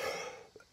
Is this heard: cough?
yes